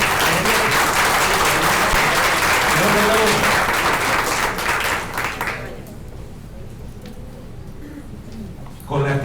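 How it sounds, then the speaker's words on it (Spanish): An audience gives a loud round of applause for the facilitators at a conference session, dense clapping that fades after several seconds into quiet room tone, with a brief burst of noise at the end. "Vamos a darle un fuerte aplauso a nuestros facilitadores."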